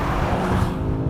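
A modern BMW M5 with roughly 630 horsepower drives hard, its engine giving a loud, dense, sustained roar that holds steady throughout with no voices over it.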